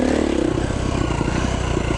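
A 2011 KTM 350 XC-F dirt bike engine revs on a muddy Utah trail, a loud, close, throaty four-stroke drone that pulses and rises as the throttle is worked.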